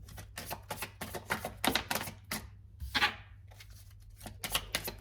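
Osho Zen Tarot cards being shuffled and handled up close, a run of quick crisp riffling and flicking bursts with short pauses, no talk.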